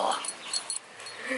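A pet dog named Munch growls and whines briefly, fairly faint and close, in short bursts while playing with a ball indoors.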